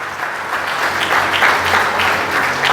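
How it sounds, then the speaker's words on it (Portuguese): A church congregation applauds during a sermon, steady dense clapping from many hands filling the space throughout, loud and sustained without a break. "Aplauda a palavra de Deus"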